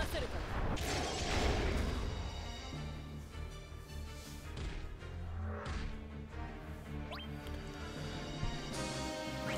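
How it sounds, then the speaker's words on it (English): Repeated cannon blasts in a mobile role-playing game fight, booming artillery-like shots and crashes over steady game music and effects, with a voice talking faintly underneath. "Just cannon fire again."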